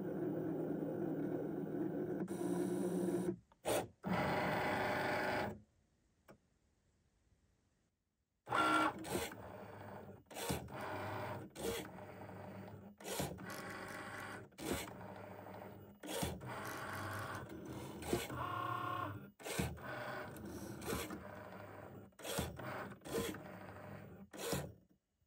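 A Cricut cutting machine scores paper with steady mechanical whirring and rasping, broken by a brief near-silent pause and then repeated short bursts of carriage motion and clicks, close and fairly quiet, with no talk.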